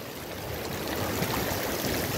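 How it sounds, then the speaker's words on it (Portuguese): Heavy rain pours down just after a hailstorm, a dense, steady roar of falling water that stays loud and unbroken throughout. "Graças a Deus tá derramando água aí do céu. Chuva, graças a Deus."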